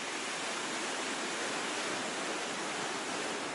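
The swollen Rímac river rushes through Chosica, its flow high enough to knock down a retaining wall, heard as a constant, dense roar of water with no break.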